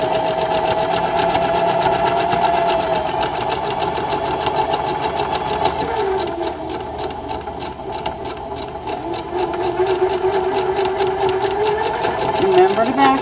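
A sewing machine stitching fabric along a seam line runs steadily and close, with a continuous rapid mechanical hum and needle rattle, slowing briefly midway, while a person talks over it.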